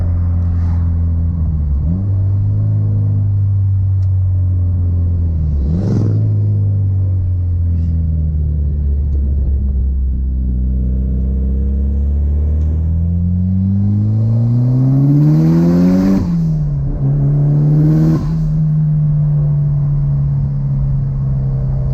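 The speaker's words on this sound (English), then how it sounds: "It also does have some nice cracks every once in a while from the exhaust too." A car engine revs up and down repeatedly, rising and falling in pitch, with occasional sharp exhaust cracks and pops between the revs.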